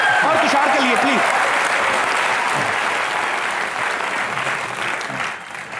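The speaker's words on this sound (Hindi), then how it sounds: "जोरदार तालियां जीतू जी के लिए और तुषार के लिए प्लीज।" A studio audience at a comedy show breaks into strong sustained applause that tapers slightly toward the end, with a voice speaking over it at the start.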